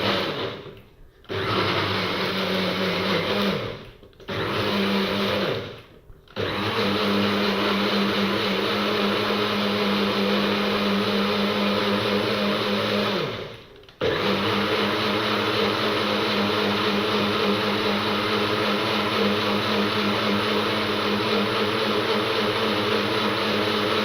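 An electric blender whirs loudly and steadily as it blends live maggots into a smoothie, with a constant motor drone that briefly stops three times early on and once more midway before running on.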